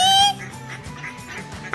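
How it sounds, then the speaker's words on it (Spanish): Cartoon ducks on a pond give a single loud honking quack at the start, then a short gap of quiet and another quack cut off at the end. "A los patos les encanta lo verde."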